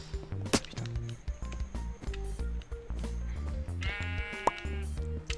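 A sheep bleats in a video game mini-game, among repeated wobbly game effects and thumps, with a loud, quavering bleat toward the end.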